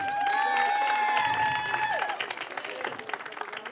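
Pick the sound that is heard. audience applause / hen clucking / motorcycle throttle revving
audience applause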